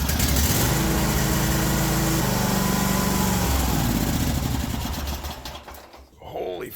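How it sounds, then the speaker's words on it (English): Cub Cadet 1050 Hydro tractor engine running a little smoky, a loud close engine drone with steady tonal hum that shifts pitch, then drops away near the end. "A little smoky. Nice sounding engine though."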